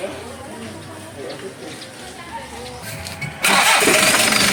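A Kia Pregio J2 3.0 van engine cranks once and catches abruptly, then runs loud and steady to the end, with voices talking during the quieter moments before it fires.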